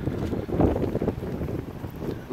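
Strong wind buffeting a microphone outdoors on a snowy day, a loud, rumbling low roar with uneven gusts swelling and fading over a couple of seconds.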